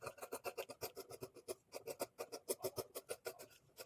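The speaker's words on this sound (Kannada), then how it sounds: "ಈಗ ಎಕ್ಸ್ಟ್ರಾ ಇರೋ ಕ್ಲಾತ್ನ ಟ್ರಿಮ್ ಮಾಡ್ಕೊಳ್ಳಿ." Scissors trim excess cloth from a blouse's lining and main fabric, giving a steady run of close, crisp snipping and rasping cuts in quick rhythm with no voices.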